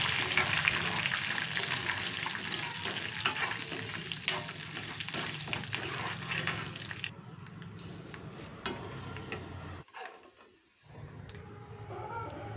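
Cumin, dried red chillies and curry leaves fry in hot oil for bitter gourd fry, a dense crackling sizzle with scattered pops, loud at first, then thinning and dropping nearly silent before a quieter sizzle resumes; no speech.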